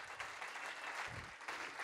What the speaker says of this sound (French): On a le droit d'applaudir les femmes ce soir